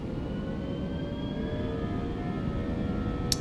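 Airbus A319 engines spooled to full takeoff power in the Aerofly FS 4 flight simulator, a steady, even jet roar with faint tonal whine, alone and unbroken.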